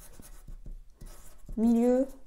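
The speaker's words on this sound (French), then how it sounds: "j'écris les renseignements" A marker or pen scratches short strokes across a fabric piece cut for a sleeveless top, each stroke close and quiet between pauses, with one brief brighter squeak near the end.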